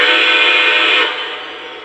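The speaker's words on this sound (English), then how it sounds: "Whistle blows to confirm it took the command." A Lionel LEGACY 4-12-2 three-cylinder model steam locomotive sounds its whistle, a loud, steady, close tone held for about a second before dropping to a softer sustained tail.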